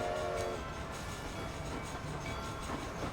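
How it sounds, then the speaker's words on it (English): A train rolls steadily along in the Red Dead Redemption video game, a loud continuous rumble with clattering wheels and a brief horn-like tone at the start, no talk. "Ride the train to the army camp."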